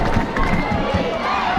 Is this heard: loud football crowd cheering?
yes